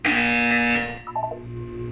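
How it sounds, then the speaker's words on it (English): A loud, steady electronic buzzer from the Portal 2 video game sounds for about a second, then cuts off, leaving quieter game ambience with a few soft tones. "You will hear a buzzer."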